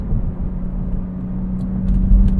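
A Cadillac CT4-V Blackwing exhaust gives a low, steady rumble from a cruising car, close and fairly loud with no voices.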